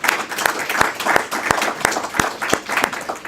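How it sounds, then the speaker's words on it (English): An audience at a 2015 conference in Sydney claps continuously, with sharp individual hand claps standing out through a short burst of steady applause. "az Ahmed or Dr. Abdullah or Dr. Wahid Murad, I think they deserve a huge round of applause for the work they've put in"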